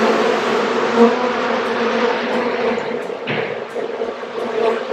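Honey bee colonies buzzing at an apiary in Northeast Ohio on a warm day, a dense continuous hum of many bees, loud and close, with individual bees swelling past.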